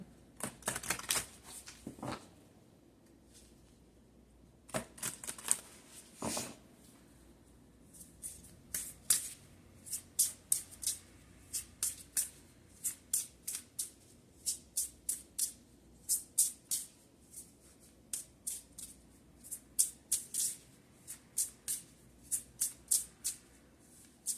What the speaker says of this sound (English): Let me pull out some more cards here.